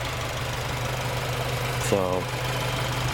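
A car engine fitted with newly installed Skunk2 Alpha exhaust headers idles steadily with a low, even drone throughout, while a voice briefly speaks over it partway through.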